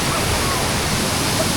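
Kondeshwar waterfall at Kamshet in the monsoon forest gives a loud, steady, close rushing roar of falling water that fills the whole moment without a break.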